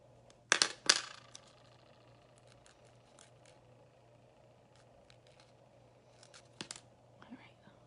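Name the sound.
scissors snipping a piece of glitter nail strip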